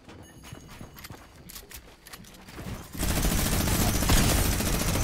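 A minigun in a video game opens up partway through, a dense, loud, unbroken burst of rapid fire that follows quieter scattered in-game clicks and footsteps.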